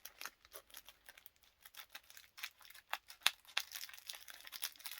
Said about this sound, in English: It's so well wrapped, I'm going to have to cut it open.